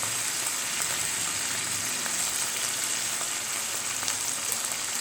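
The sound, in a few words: mushroom manchurian being mixed and sizzling in pan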